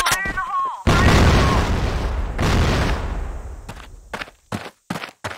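Grenade explosion in a shooter video game: a loud, close boom followed by a long rumbling decay, then several sharp pops, with voices briefly heard before the blast.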